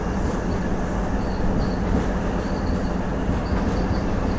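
A DEMU passenger train at Kamalapuram station in Andhra Pradesh gives a steady, loud rumble of rolling stock with faint wheel squeal, continuous throughout and with no talk.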